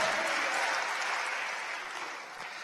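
A church congregation claps together during a sermon, a dense, steady wash of applause filling the space and tapering slightly toward the end, with no talk over it.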